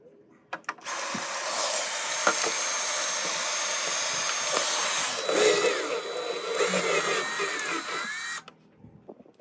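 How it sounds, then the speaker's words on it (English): A drill bores slowly through plastic on a boat, giving a sustained whirring grind with small ratcheting clicks and varying pitch for about eight seconds, bracketed by brief knocks. "This is the longest drilling for a 32nd of an inch."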